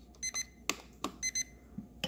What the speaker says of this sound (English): I'm gonna go ahead and turn off the alarm here.